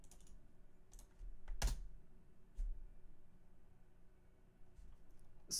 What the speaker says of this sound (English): Type in your sudo password, your server user password